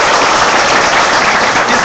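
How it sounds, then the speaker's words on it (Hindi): An audience at a political party event bursts into loud, dense applause to welcome someone, a continuous roar of many hands clapping close up with no speech over it. "तालियां बजा के इनका स्वागत करिए"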